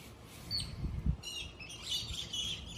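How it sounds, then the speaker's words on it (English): Grackles calling from a tree outdoors, bright squeaky chirps and rasping whistles repeating in quick, irregular bursts, fairly close, with a low rumble of background noise underneath. "we got some grackles up in the tree making sounds right here"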